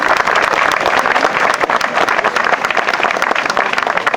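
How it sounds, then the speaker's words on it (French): Crowd applause for a competitor at a quadrathlon event, steady dense clapping throughout, loud and close without a break. "Applaudissements pour ce petit gars."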